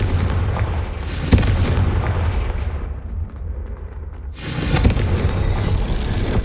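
The Confringo blasting curse explodes in the Hogwarts Legacy video game, with deep booming blasts, a sharp hit early on and a second burst later, all over a heavy rumbling bed of low noise.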